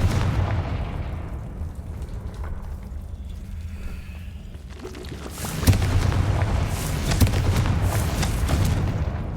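Confringo fire-spell blasts in the PC game Hogwarts Legacy: a deep rumbling explosion boom swells about halfway through, then crackling bursts and debris follow over a low, continuous game rumble, with no talk.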